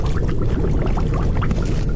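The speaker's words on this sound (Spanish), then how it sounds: "Vamos a coger esta agua y la vamos a poner por aquí" Water poured out in the Forever Skies survival game, a brief continuous gurgling splash at close range, steady and fairly loud for about two seconds with no talk.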